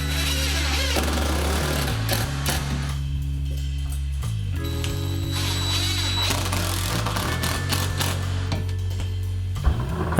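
A power drill drives number 10 2.5-inch screws through shelf brackets and support boards into wall studs, with several bursts of rising and falling motor whine and brief pauses between screws.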